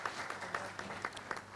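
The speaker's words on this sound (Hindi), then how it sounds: "आप इनका भी तालियां बजा के स्वागत कर सकते हैं।" Audience clapping in welcome for a newly introduced guest at a Hindi community event, a short burst of applause with a few sharper claps standing out, moderately faint and heard without speech.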